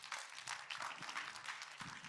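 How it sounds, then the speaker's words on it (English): An audience at a peace conference applauds with steady, dense clapping throughout. The sound is fairly faint and distant, with no voices over it. "please, let's give a warm applause to my dear colleague,"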